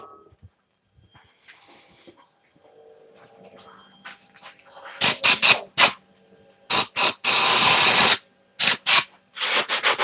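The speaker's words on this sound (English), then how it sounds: "Just going to get my compressor." Air compressor hose spraying in short loud bursts of hiss, several blasts in quick succession after some quiet handling noises.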